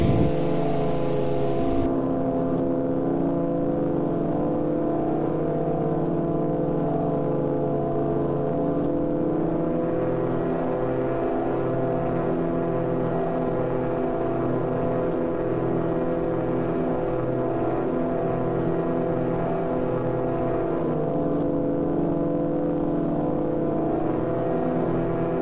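Steady, continuous drone of aircraft engines in the game Flight Simulator X, loud and unbroken with a faint pulsing texture, no voices.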